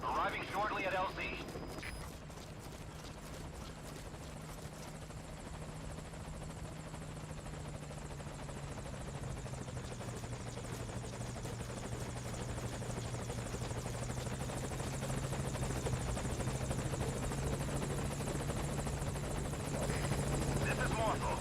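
Morpho helicopter arriving at a landing zone in Metal Gear Solid V: Ground Zeroes, a continuous rotor thrum and engine roar holding steady for the whole stretch, with brief voice and game sounds near the start.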